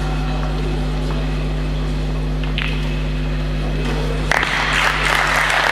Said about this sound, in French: Vous pouvez applaudir, cher public